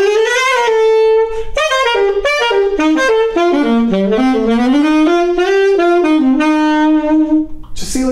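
A Cecilio AS 280 alto saxophone with a black nickel body and gold keys plays a flowing melodic phrase. The notes are clear, bright and reedy, moving up and down in steady succession, loud and close with no talking.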